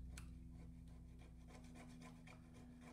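A palette knife or scraper rubs and rasps across an oil-painted canvas, making a series of short, dry scraping strokes up close at a fairly quiet level, with no voices.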